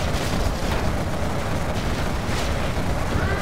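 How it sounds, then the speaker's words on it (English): Rocket barrage explosions in the Pro:Gen mod video game, a dense continuous roar of overlapping blasts and rumbling booms with no pause. "Rocket barrage ready."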